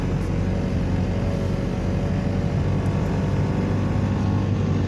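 Steady, dense road traffic with many vehicles heading toward Bakers Bay, giving a continuous loud rumble and hum and no clear breaks or voices.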